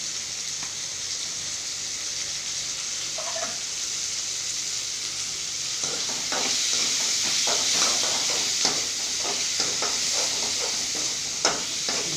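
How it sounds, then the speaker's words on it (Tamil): Onions sautéing in a pan with a pinch of asafoetida, a steady bright sizzle throughout, with scraping stirs tapping against the pan in the second half. "வெங்காயம் கொஞ்சம் வதங்கணும்."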